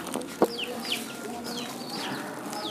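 Chickens cluck in a farmyard, with a single sharp knock near the start and bird calls chirping over a steady outdoor background.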